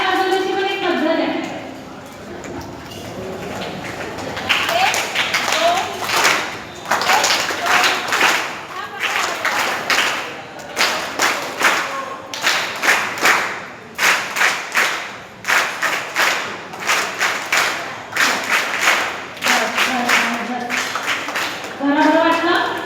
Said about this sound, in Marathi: आपल्याला टाळ्या वाजवण्याची पण एक पद्धत आहे।